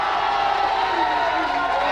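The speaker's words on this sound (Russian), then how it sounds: "Аплодисменты для меня." A crowd cheers and claps in a dense, steady wash of noise at a televised contest, with whoops mixed in and no break in the sound.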